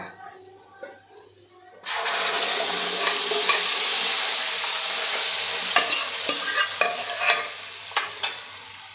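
Cooked whole mung dal with skins is tipped into a hot spice tempering, setting off a sudden loud sizzle after a quiet start. Sharp scraping taps follow as the pan is stirred.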